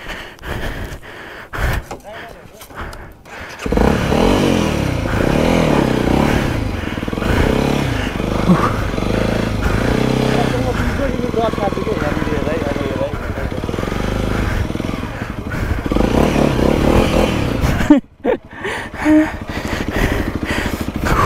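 A motorcycle engine, used for riding practice, starts after a few seconds of clatter and runs at a steady idle nearby for about fifteen seconds before cutting off, with people's voices around it.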